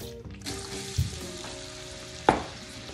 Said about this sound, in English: I'm gonna saute vegetables.